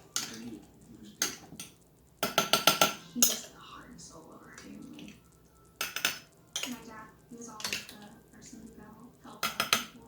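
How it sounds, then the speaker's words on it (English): A spoon stirs beef and barley soup in a pot, knocking and clinking against the metal in several short bursts with quiet gaps between them. "I'm going to stir it around a little bit."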